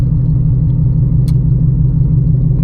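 A nearby car engine idling with a rough, steady low rumble that resembles a lawnmower, loud and continuous, heard from inside a car.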